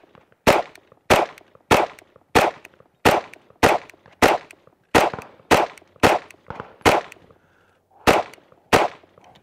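A lubricated gun fires a whole magazine at a shooting range: about fourteen sharp, loud shots in a steady rhythm roughly half a second apart, with one short pause near the end, and no talking.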